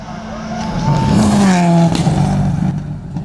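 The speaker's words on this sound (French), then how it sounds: "t'as la voiture qui roule très très vite devant toi" A rally car speeds past at a rally stage, engine rising in pitch, roaring loud and close, then falling away as it recedes.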